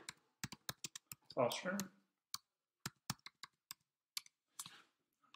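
Keys clacking on a computer keyboard while typing a search into Google Chrome, a quick run of crisp, fairly close taps in short bursts with pauses between, and a brief spoken word partway through.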